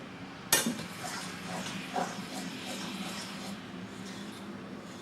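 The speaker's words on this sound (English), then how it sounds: "I keep scraping the pot, because a lot of times the flour gets stuck on the side" A fork scraping stuck flour from the inside wall of a cooking pot, a sharp metallic clink up front followed by faint, intermittent scratchy scrapes at close range.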